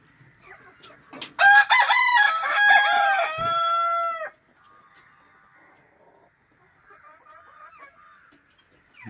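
Two roosters and several hens of a native Kerala free-range flock dust-bathing in soil: a loud, near rooster crow lasting about three seconds rings out, then soft scattered clucks continue quietly.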